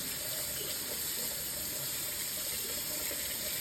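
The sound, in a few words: hot water rinsing a strainer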